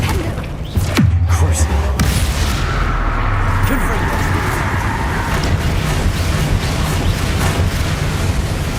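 A Confringo fire spell in Hogwarts Legacy goes off with a sharp, loud blast just under a second in, then gives way to a sustained rumble of combat noise and effects.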